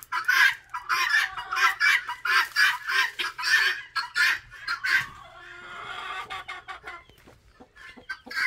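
Chickens and chicks cluck and call close by in quick repeated bursts, loud at first and then thinning out to softer scattered sounds.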